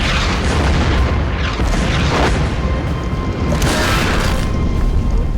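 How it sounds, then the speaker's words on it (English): Artillery shells exploding in a WWII tank battle in Tunisia, a dense, loud, nearly continuous roar of overlapping booms and rumbling blasts with no pause throughout. "Non-stop shells hitting in the front, the back, to the left, to the right."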